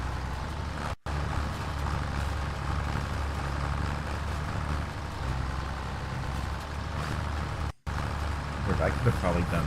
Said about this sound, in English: Tractor's pushing it out of the way.